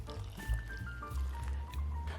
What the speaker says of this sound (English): I'm just gonna grab my TVP, pour this in